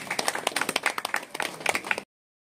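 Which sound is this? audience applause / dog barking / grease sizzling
audience applause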